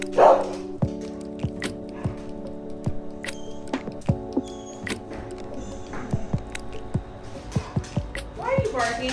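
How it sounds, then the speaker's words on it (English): A dog barks in short repeated bursts at close range over a steady background hum of many tones, with brief child-like voices mixed in near the start and end. "Why are you barking at me?"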